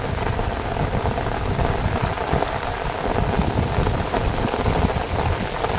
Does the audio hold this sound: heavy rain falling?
yes